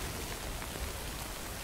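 Dense, steady rainfall hisses evenly across the whole moment in the video game Death Stranding, a continuous wash of drops with no talking over it.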